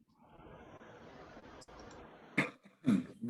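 Two short, harsh coughs near the end, close by, after a few seconds of steady low background noise.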